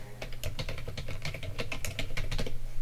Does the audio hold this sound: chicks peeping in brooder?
no